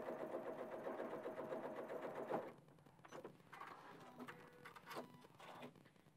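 A sewing machine runs a quarter-inch seam on quilt pieces, a steady rapid stitching whir for about two seconds, then stops and leaves quieter handling clicks and rustles of fabric.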